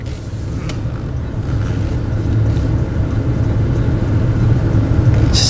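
A 2020 Honda Ridgeline reverses into a parking spot, giving a steady, close engine and road rumble that holds level throughout with no talk.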